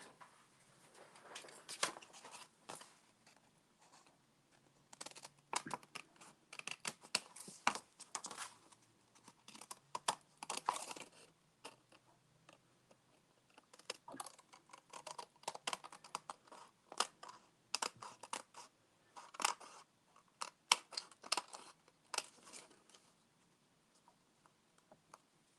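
Paper being cut for a Magnolia Lane card kit, a long run of close, crisp snips and rustling crinkles in uneven bursts, with no talk over it.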